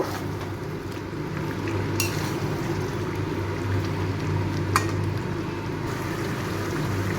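Chicken curry with fried potatoes being stirred and cooked down in a pot, giving a steady close sizzle and bubbling with two sharp utensil clinks against the pot.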